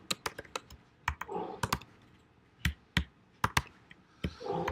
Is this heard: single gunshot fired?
no